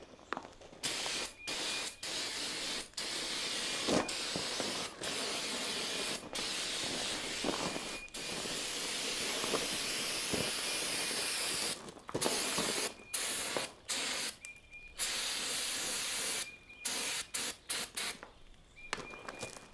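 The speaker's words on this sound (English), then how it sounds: "I'm gonna go and spray this platform" Gray self-etching primer sprayed from a can onto a tree stand platform in repeated bursts, each hissing spray separated by short pauses, close and loud with no talking.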